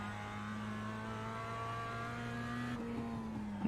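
Race car engine in the iRacing sim, a steady tonal drone holding pitch before dropping as the car slows under engine braking, ending in a short burst of noise.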